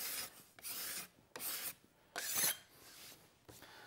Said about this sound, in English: I like to switch to a card scraper.